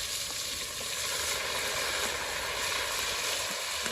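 Onion curry with tomato, cumin and green chili frying in oil, a steady close sizzle with light stirring throughout, loud and unbroken, no speech.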